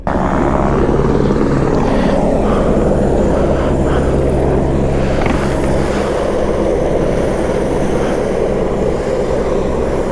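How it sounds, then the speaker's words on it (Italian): Steady, loud rotor and engine roar of a helicopter overhead, a continuous dense drone without pause or talk. "È passato un elicottero."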